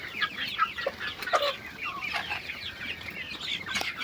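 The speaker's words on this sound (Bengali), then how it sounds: "তো মুরগিগুলো দেখছুনি কি সুন্দর হয়েছে" Farm chickens cluck and squawk in a steady, busy chorus at close range, with overlapping calls and brief louder cries and no talking.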